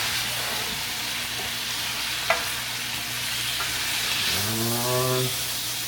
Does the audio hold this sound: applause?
no